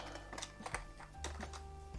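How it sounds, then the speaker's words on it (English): Quiet burst of typing on a computer keyboard, a quick irregular run of clicking keystrokes close to the microphone, with no talking. "Good typing."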